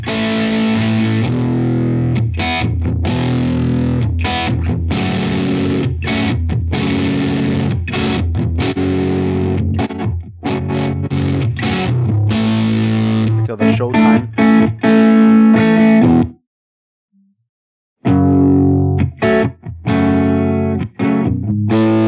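An electric guitar plays through the brilliant channel of a VST amp plugin: loud, buzzy chords and notes in a steady rhythm, with a brief silent gap near the end before playing resumes.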